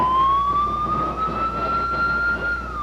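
Tsunami warning sirens wail over Honolulu, a steady rising tone with a faint harmonic above, loud and continuous over a dense rumble of city traffic.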